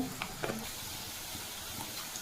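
Cumin seeds frying in hot oil for chowmein, a steady close sizzle with a few small crackles and pops throughout.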